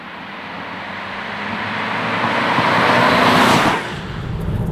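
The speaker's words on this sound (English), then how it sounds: "we're driving at 100 kilometers per hour, and as you can hear, the sound insulation is great" Inside an Opel Combo Life (Vauxhall Combo E) cruising on a highway at 100 km/h, a steady broadband roar of road and wind noise swells gradually, then eases slightly near the end, with no voices.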